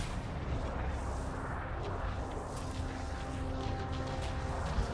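Gunfire in the video game Anthem: a steady, dense barrage of shots and blasts, rumbling and somewhat distant, continuing without a break.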